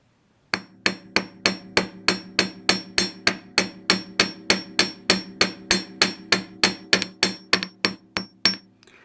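A hammer strikes wire being flattened for handmade wire-only earrings, about thirty crisp metallic taps in a steady, even rhythm, close and loud with nothing else heard.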